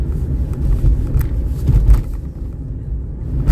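A car rolling by on a road, a loud close low rumble of engine and tyres that swells toward the middle and eases off, with no talk over it.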